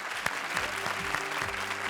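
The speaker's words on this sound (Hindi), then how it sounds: "इस बात पर एक बार फिर से जोरदार तालियां फॉर शकील सिद्दीकी" A comedy show audience gives loud applause for comedian Shakeel Siddiqui, with dense, even clapping filling the whole moment.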